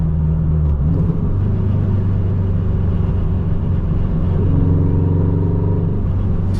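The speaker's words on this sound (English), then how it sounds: "Makes good turbo sounds." A turbocharged car engine, seemingly a Renault R5 Turbo II, idling and revving with a steady deep rumble and droning tones that shift in pitch as the turbo spools, loud and close throughout, without speech.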